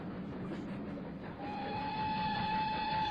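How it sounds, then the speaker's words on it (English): A boat train pulls into a station, a low rolling rumble with a steady whistle-like tone rising in the second half, heard from a station platform with no talk. "Oh, there's the boat train."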